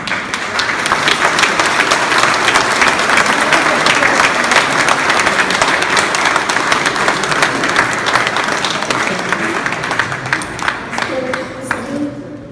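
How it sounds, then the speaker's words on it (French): An audience at an award ceremony in Nancy breaks into sustained, dense applause, many hands clapping loudly and evenly for several seconds before thinning out at the end. "J'aimerais que vous l'applaudissiez."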